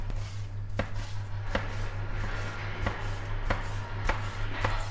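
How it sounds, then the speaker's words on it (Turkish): A knife chops peppers into thin pieces on a board, giving a steady series of sharp, close taps at an even rhythm over a quiet kitchen hum. "Biberleri şimdi ince parçalar haline getiriyorum."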